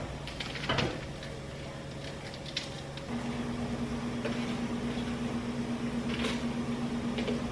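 A microwave oven heats a mug of coffee for about a minute, giving a steady low hum that steps up into a stronger tonal drone partway through, with a soft clunk near the start.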